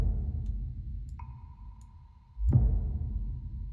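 An impact sample from Splice, with most highs and some bass filtered out, lands as a single heavy hit with a low rumbling tail, preceded by a thin sustained tone.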